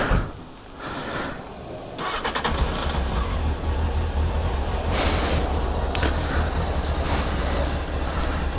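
An old motorcycle engine starts up after being washed at a self-service car wash, with a few cranking bursts giving way to a steady, loud idle running close by.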